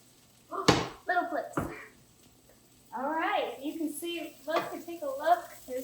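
Turmeric breakfast potatoes sizzle softly in a heavy pan while a person talks over them. Two sharp clanks mark the pan being handled and the potatoes flipped, and the frying hiss continues beneath the voice.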